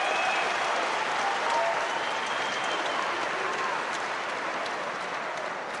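Boxing arena crowd applauding and cheering continuously throughout a pro fight, a dense steady wash of clapping with cheers mixed in under faint commentary.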